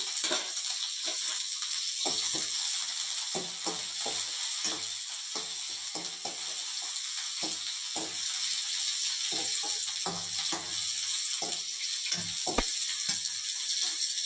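Shallots, green chillies and curry leaves sautéing in hot oil after mustard seeds have popped, giving a steady bright sizzle throughout with repeated scraping and stirring clatters of a spoon in the pan.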